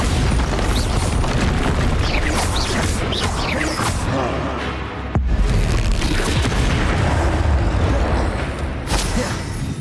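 Bombardo spell explosions in the video game Hogwarts Legacy, a loud, dense barrage of booming blasts and crashes that runs continuously with hardly a break.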